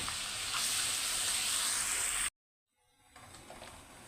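Chopped onions with ginger-garlic paste go into hot oil for Old Dhaka-style chicken pulao, giving a loud, bright sizzle that cuts off abruptly. A softer frying hiss then returns and builds.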